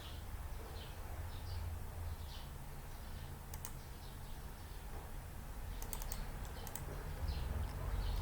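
Keystrokes on a computer keyboard tap in scattered light clicks, faint and close, over a steady low background hum with no voices.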